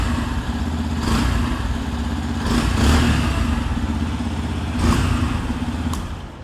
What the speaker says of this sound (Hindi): एग्जॉस्ट साउंड भी।